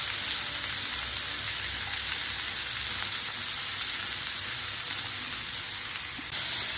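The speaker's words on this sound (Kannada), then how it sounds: "ಈಗ ಈರುಳ್ಳಿ ಫ್ರೈ ಆಗಬೇಕು ಚೆನ್ನಾಗಿ." Onions frying in a pan for an okra dry fry, a steady, even sizzle that hisses continuously and fairly loud throughout with no voices.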